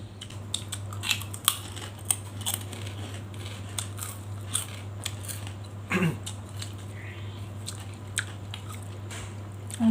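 Crisp, crunchy bites and chewing of crispy pork eaten with spicy papaya salad made with crab, as repeated close crackles and munches over a steady low hum.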